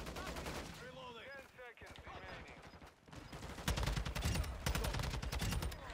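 Gunfire in a Call of Duty Modern Warfare 2 team deathmatch: sharp shots and rapid automatic bursts that grow dense and loud toward the end, with a player's voice heard briefly earlier.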